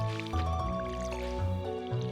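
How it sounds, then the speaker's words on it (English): Watering can sprinkling crops in the farming video game Stardew Valley, a short bubbly squishing pour of liquid heard alone, fairly close and clear. "let's just make sure that we water all our plants."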